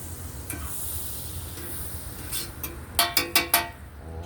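Real butter sizzling on an outdoor grill, a soft steady hiss that builds up, followed near the end by four quick, bright metallic clinks close by.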